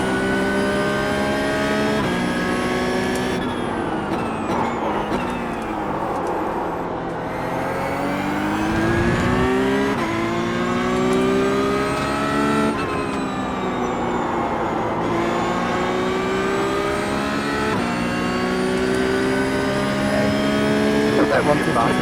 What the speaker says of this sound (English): That's a look at the international circuit here at the Bend in the Porsche GT3 Cup car.